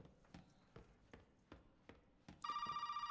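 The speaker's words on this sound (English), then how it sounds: "The phone's going." Telephone ringing in the horror video game Resident Evil 7. A bright, sustained electronic ring starts near the end, after a run of steady footstep-like thuds, loud and close.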